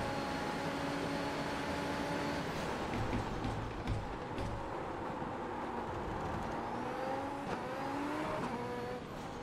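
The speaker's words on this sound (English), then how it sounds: "a bit of rear wheel spin there" Rear wheels of a Super Formula race car spinning at Okayama in a racing sim: a steady engine drone with pitch shifts and a brief tyre-slip squeal near the end, moderately loud and without voices.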